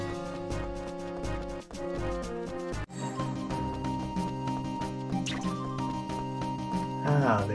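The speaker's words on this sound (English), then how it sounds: "Let's get these watered first after I make sure I have plenty of water in the can." Watering crops with a watering can in the video game Rune Factory: soft dripping, splashing water effects play over continuous background game music.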